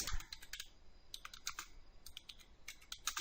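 Fingers tap out a quick, uneven run of keystrokes on a computer keyboard, light close clicks in short bursts with brief pauses and no talking.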